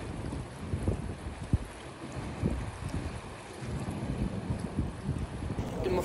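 Wind buffets the microphone at a seaside in Korea, with a low rumbling roar of surf and gusts throughout, loud and continuous, with no clear speech.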